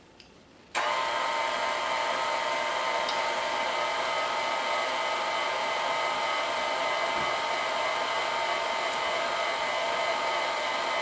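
A stand mixer working whole wheat bread dough switches on after a short quiet start and then hums at a steady, loud, even pitch to the end, with only a faint knock partway through and no speech.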